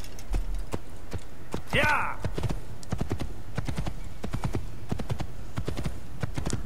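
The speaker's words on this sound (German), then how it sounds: "Bewegen Sie LS, um das Pferd zu steuern." Steady, evenly paced clip-clopping comes from horse hooves while riding in the video game Assassin's Creed. A brief whinny rises partway through, and a voice speaks over the rhythmic hoofbeats.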